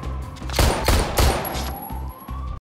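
Gunfire in the film The Nice Guys: a few loud close shots in quick succession over a rising siren-like whine, then a short rhythmic thumping pattern.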